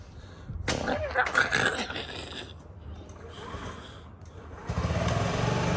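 A Honda Ruckus scooter engine fires up with a loud burst and revs unevenly, then settles into a low, steady idle before rising again near the end.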